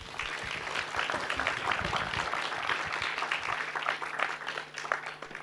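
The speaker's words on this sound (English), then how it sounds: "let's give them a round of applause" A small audience applauds panel speakers at an evening session on retirement investing, a scattered, moderately quiet patter of clapping lasting several seconds.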